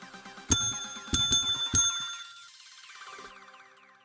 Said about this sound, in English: welcome to the bell ringing club